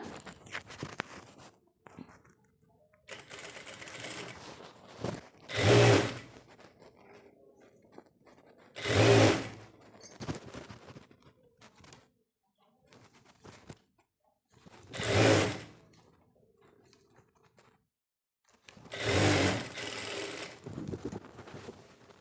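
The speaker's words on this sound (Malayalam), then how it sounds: "ഇതിലെ നൂലിൻ്റെ അകലം കൂട്ടിയിട്ടിട്ട് ഒരു സ്റ്റിച്ച് ചെയ്യുന്നുണ്ട്" A sewing machine running short bursts while stitching a churidar top sewn from nightie fabric, with four separate loud whirring runs spaced several seconds apart and soft handling noises between them.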